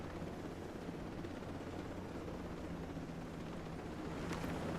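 Helicopter in the video game Ghost Recon Breakpoint, a steady loud rotor and turbine roar with a continuous low thrum filling the whole stretch, unchanging and alone without speech.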